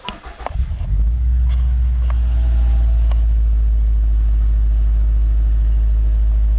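A 2016 Subaru WRX STI starts up and settles into a loud, deep exhaust rumble close by, holding a steady heavy drone after a few initial clanks.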